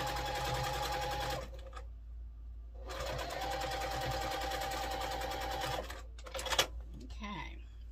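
A sewing machine stitching quilt blocks runs in a fast steady whir for several seconds, pauses briefly and starts again, then stops, with a light clatter and handling noise at the end.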